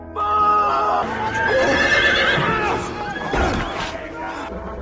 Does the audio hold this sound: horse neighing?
yes